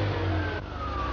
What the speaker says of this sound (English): But with fuel injection, it's up and running the instant you turn the key.